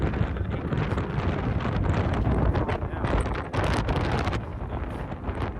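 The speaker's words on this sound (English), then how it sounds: "how windy it is and how it's blowing me around" Strong wind buffeting the microphone out in the open desert near Nutty Putty Cave, a loud, continuous rumbling roar with gusty surges and crackling bursts throughout.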